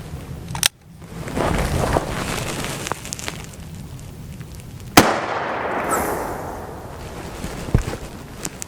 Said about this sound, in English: We're going to start old school with the 45 Colt. This is the FTX Lever Evolution round.